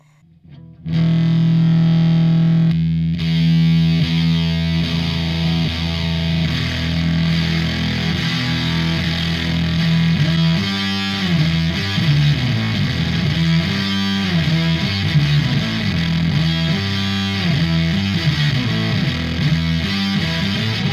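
A distorted electric guitar through a POG octave pedal, with a thick, doubled octave tone, plays a continuous riff, loud and steady throughout, with no voices.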